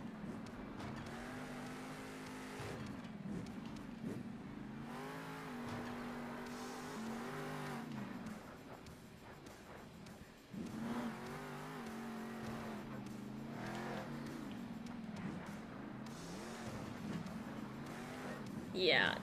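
A monster truck engine in the video game Monster Jam Steel Titans revs and drives, its tone rising and falling in repeated surges and pulling back between runs, with a person talking over it.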